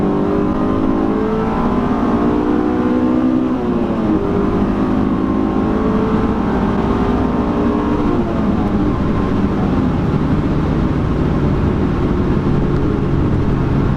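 A stock Honda S2000 engine revs while driving with the air conditioning running, a loud, steady drone that rises and dips in pitch through gear changes, heard from inside the car.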